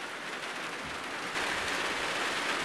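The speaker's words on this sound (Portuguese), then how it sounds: "Estava só bonito, né? Agora a chuva." Steady rain falls in a rural riverside area that floods yearly, a dense even hiss that grows slightly louder partway through, heard alone with no talk.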